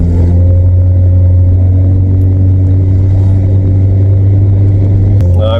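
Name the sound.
VW Vento car accelerating hard through the gears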